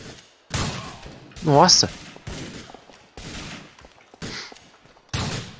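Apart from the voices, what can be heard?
gunshots in the video game GTA IV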